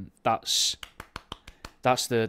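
One person mimics a room of heavyset women clapping together: a string of about six short, sharp, close claps or snaps in an uneven rhythm, set between spoken words.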